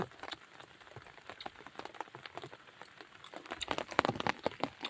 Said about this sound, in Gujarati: વરસાદ રહેવાનું નામ નહીં લે